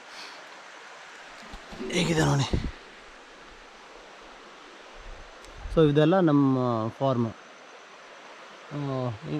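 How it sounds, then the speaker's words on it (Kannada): A small river flows beside farmland, giving a steady soft rush of water under the whole stretch, while a person talks in several bursts over it. "ಈ ಪ್ಲೇಸ್ ಬಂದುಬಿಟ್ಟು ನಮ್ಮನೆ ತೋಟನೇ, ನಮ್ಮ ಲ್ಯಾಂಡ್ ಪಕ್ಕನೇ ಇರುವಂಥ ಹೊಳೆ ಇದು."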